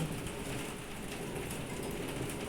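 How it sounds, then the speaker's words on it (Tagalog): Heavy typhoon rain in Hong Kong pours down steadily, a dense, continuous hiss of drops drumming on surfaces with no pauses or voices. "Kaso, ulan naman ang malakas."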